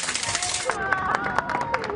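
Hospital doctors and nurses applaud a 22-year-old woman as she leaves, scattered uneven clapping under a murmur of voices and nearby talk.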